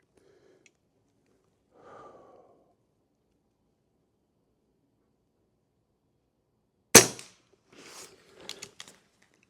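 Avenge-X air rifle fired at a target while shooting groups, one sharp crack, then a few faint clicks and mechanical noises afterward, with soft breath-like sounds earlier in a mostly quiet space.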